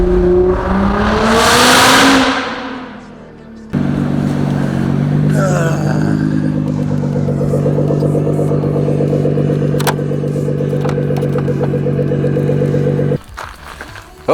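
A Nissan GT-R with a Linney drag exhaust and a pops-and-bangs tune revs loudly and close, then holds a heavy, steady droning roar broken by a few sharp cracks.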